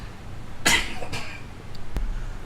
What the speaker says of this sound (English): I was coughing a little bit.